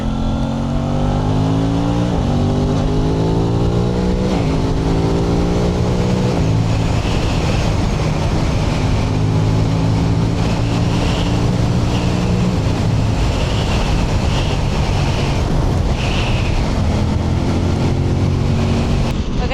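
An Aprilia RS660 sport motorcycle is ridden at speed, its engine droning and shifting pitch through gear changes beneath heavy, constant wind roar, loud and steady throughout.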